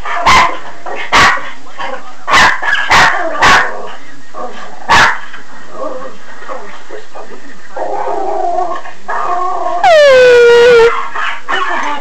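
A dog barks loudly and close by in sharp single barks spaced over several seconds, then whimpers and ends with a long wavering howl. Faint voices murmur between the barks.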